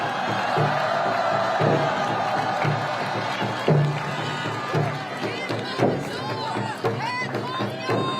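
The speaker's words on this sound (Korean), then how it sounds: "여러분 큰 박수 보내주시기 바랍니다." Crowd at an outdoor Seoul campaign rally clapping and cheering, with whoops and rhythmic bursts swelling over a continuous roar, some voices and shouts mixed through the noise.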